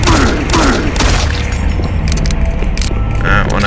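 Gunfire in the video game Doom 3, loud booming shots with mechanical clatter in quick bursts, layered over dense game noise and effects.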